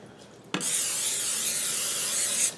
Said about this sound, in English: Spraying it with a non-stick cooking spray.